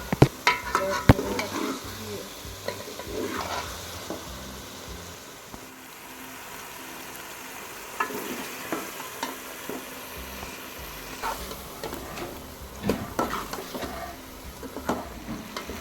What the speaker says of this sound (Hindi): ये चिकन जो है ये इसको हम भून रहे हैं।